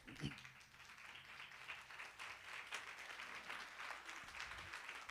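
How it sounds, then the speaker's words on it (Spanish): A church congregation applauds during a Spanish-language evangelical sermon, with steady crowd clapping holding at moderate volume for several seconds and a few voices mixed in. "dan un aplauso al Señor"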